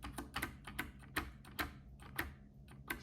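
KBDfans DSA keycaps, some loose and failing to hold, being pressed onto a keyboard's switches: about ten sharp, close plastic clicks and taps in an irregular rhythm, fairly quiet, with no voices.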